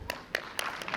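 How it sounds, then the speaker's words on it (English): Parents at a school annual day clap for junior and senior KG girls, with several distinct, moderately distant hand claps spaced out across the moment rather than a dense ovation. "So, parents, please welcome them with a huge round of applause."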